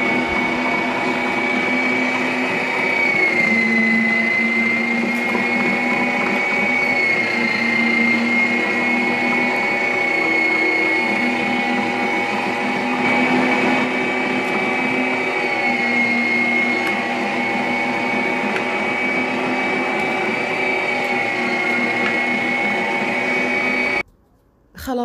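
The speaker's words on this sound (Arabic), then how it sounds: "نبدأ عاد نحط المقادير كلها داخل المطحنة" An electric meat grinder runs steadily, grinding bulgur and meat for Syrian kibbeh on a fine blade. It gives a loud, continuous motor whine with a slight waver throughout and cuts off abruptly at the end.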